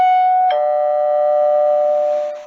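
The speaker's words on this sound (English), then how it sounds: "He went to Al's apartment and rang the doorbell." An apartment doorbell rings loud and close: a clear two-tone ding-dong, the first chime struck then a lower second tone ringing out and slowly decaying, with no voices.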